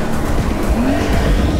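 A Porsche 911 Carrera S Cabriolet of the 992 generation, 450 PS turbocharged engine, roars loudly past at close range with a rising engine tone and tire noise throughout.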